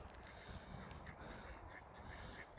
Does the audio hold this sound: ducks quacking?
yes